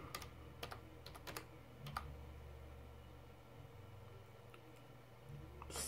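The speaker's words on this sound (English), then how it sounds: "So let's type fastboot." Someone types a fastboot command on a computer keyboard to unlock a Motorola Moto G bootloader: a scattering of soft, quiet key clicks in short bursts over a low steady hum, with no talking.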